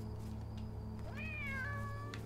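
One drawn-out meow from a cat in the dark-humour video game Nine Witches sounds over a humming background score, clear and fairly close, with no one speaking.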